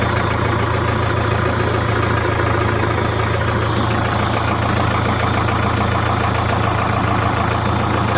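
A Solis 5724 tractor engine idles in a loud, steady diesel rumble with a constant low drone and a rough, knocking texture. It holds the same level throughout, alone with no talking.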